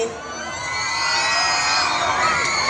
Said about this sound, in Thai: กรี๊ดหน่อยกรี๊ดหน่อย